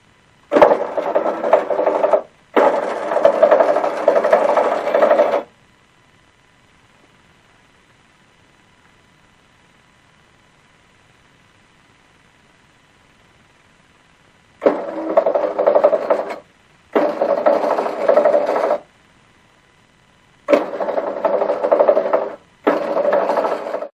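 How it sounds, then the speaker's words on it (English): A sawmill edger motor runs in short bursts: three separate runs of a few seconds each, split by long silent pauses, with a loud, rough, rasping mechanical sound close by. "Alright, so I'll turn it on. You can watch this motor work."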